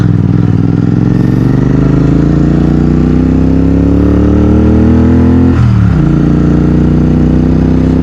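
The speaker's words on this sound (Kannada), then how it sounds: "ಗಾಡಿ ಸಿಕ್ಕಾಪಟ್ಟೆ ಸ್ಟ್ರಗಲ್ ಮಾಡ್ತಾ ಇದೆ ಗುರು, ಗೊತ್ತಾಗ್ತಾ ಇದೆ" A heavy motorcycle labours up an icy high mountain road from Darcha to Shinkula top, its loud engine droning with slowly rising pitch, briefly dipping as it shifts, then straining on.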